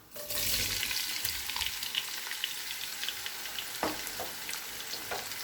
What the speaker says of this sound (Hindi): प्याज को हम गोल्डन ब्राउन होने तक भून लेंगे।